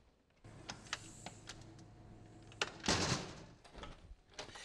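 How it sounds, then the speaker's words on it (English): A storm door with a door closer shuts with a few quiet clicks and rattles, then a brief louder hiss and thump from the closer, all faint and close with no talk. "most storm doors and screen doors have a door closer like this"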